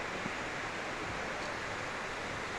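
A creek waterfall at Gölyaka, Düzce, pours in a steady, dense rushing wash that stays even and unbroken throughout, with no voices over it.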